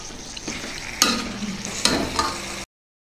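Chicken frying with red chili paste for a traditional mango chicken curry, a steady sizzle under three or four louder bursts of stirring and scraping in the pan, with no talk, ending abruptly.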